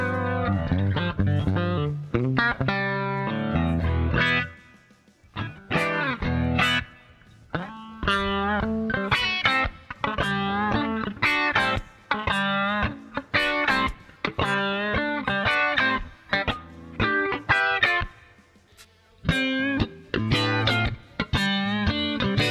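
Guitar played through the Nembrini Audio Jazz Chorus amp simulator, a close, loud run of plucked notes and chords with brief pauses between phrases and no voice over it.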